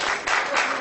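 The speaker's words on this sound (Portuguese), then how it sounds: "Mesmo porque vocês estão aplaudindo a mãe de vocês" A short burst of audience applause, fairly soft and swelling in two quick waves before cutting off.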